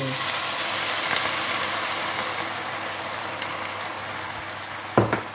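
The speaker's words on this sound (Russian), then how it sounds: "И сейчас мы вливаем горячую воду" Continuous sizzling and hissing as hot water is poured into a frying pan of fried onion and cabbage, with a couple of short clatters near the end.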